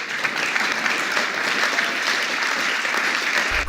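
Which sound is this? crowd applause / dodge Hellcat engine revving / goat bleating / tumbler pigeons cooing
crowd applause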